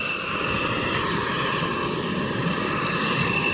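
Allegiant airliner pushing back at Springfield-Branson National Airport, a steady loud engine whine and rumble with a sustained high tone, continuous and without talk.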